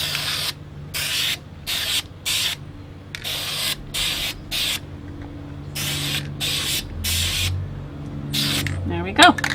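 An aerosol can sprays UV blacklight paint over a white-painted surface in about a dozen short, sharp hissing bursts separated by quiet pauses, close to the listener, with a brief faint clatter at the end.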